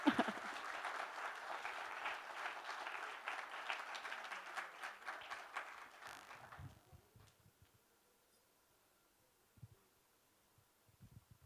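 Audience applause greets a singer at a live talk event, a loud sustained wash of clapping for about six seconds that fades out, leaving near silence with a few faint scattered sounds.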